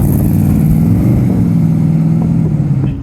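A Triumph Stag's heavy engine runs loud and close with a steady, throaty rumble that swells slightly as it revs, continuous across the moment with no voices.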